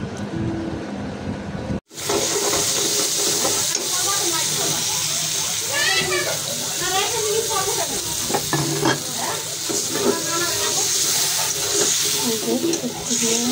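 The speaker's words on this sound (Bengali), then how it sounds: "মশলা কষানো শেষ।" Spices stir-fried in a pan in a home kitchen while lotis is being cooked: a loud, continuous sizzle with scraping spatula strokes, close and steady after a brief silent gap at the start.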